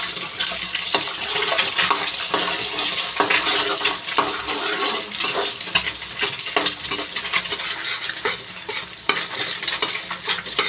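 Egg fries and sizzles in a pan while a utensil stirs and scrapes through it, with bright continuous crackling and frequent sharp scraping strokes close up.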